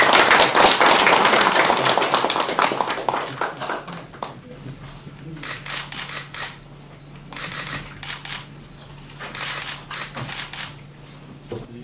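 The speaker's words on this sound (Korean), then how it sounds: "서명이 완료되었습니다. 큰 박수로 축하드립니다." Applause from an indoor audience after the signing of a friendship and cooperation agreement between Seoul and Jinan County. The clapping is dense for about four seconds, then thins into scattered claps and camera shutter clicks.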